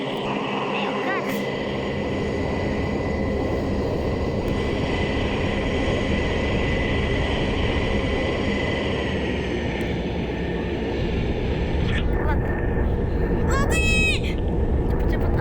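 Airplane engine drone in a video game, a steady broad roar holding throughout and swelling slightly near the end, with a few brief chirping game effects and speech underneath.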